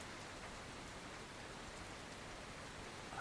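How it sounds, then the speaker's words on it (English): Heavy rain pours continuously, a dense, steady hiss of drops on surfaces that stays even and fairly faint, with no voices or other sounds breaking through. "raining pretty heavily"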